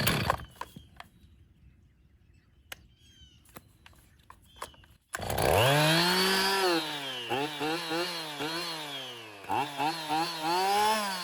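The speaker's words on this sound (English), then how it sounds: "And now for some fresh fuel to test start the chainsaw." A few quiet clicks and pulls, then an old Stihl 039 two-stroke chainsaw, run on fresh fuel, fires up loudly and revs up and down in uneven bursts.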